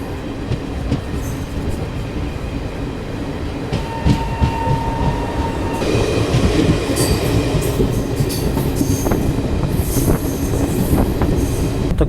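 A Garib Rath Express pulls away and picks up speed, filling the space with a loud, continuous rumble of rolling wheels, occasional metallic squeals and faint clattering over the rails.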